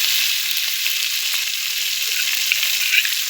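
Hilsa fish oil, saved from frying the fish, sizzles steadily in a pan while taro leaf ghonto cooks. It is a bright, close, continuous hiss with no talk.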